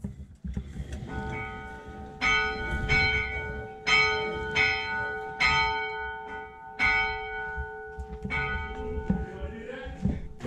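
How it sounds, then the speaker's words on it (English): Steam locomotive bell clanging inside the East Broad Top railroad roundhouse, a series of loud ringing strikes every second or so with a long sustained tone, in a large echoing space. "Okay, I'm ringing the bell."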